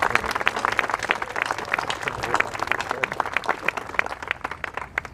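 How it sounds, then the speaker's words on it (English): An outdoor audience at a city bridge-opening event claps for city board and commission members, lively applause with distinct individual claps standing out, fairly near and steady. "let's give them all a round of applause"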